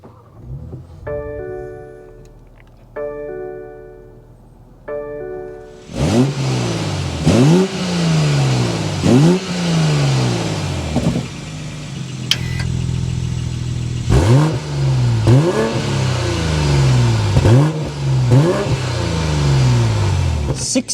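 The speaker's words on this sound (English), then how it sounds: "We need to go inside and start it up so you can hear that exhaust note." A 2024 BMW 840i Gran Coupe engine starts with a chime beforehand, then revs repeatedly, each blip rising and falling, loud and close, with a deep exhaust rumble between.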